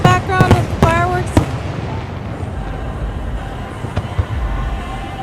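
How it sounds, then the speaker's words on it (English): Fourth of July fireworks bursting in a series of sharp booms early on, then a quieter rumbling stretch with one more distant bang, with voices and a whistle-like tone over the top. "They're playing some music while the fireworks are going on."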